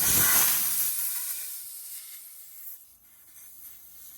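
Loud, steady hissing of air rushing out while a car tire is mounted onto a BMW Style 24 wheel, strongest at first and then tapering, with rubbing noises underneath.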